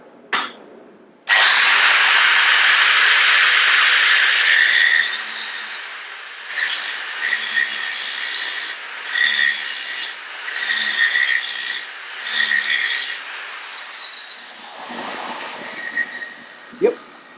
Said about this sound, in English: let's try the pipe, see if we can put a bevel on that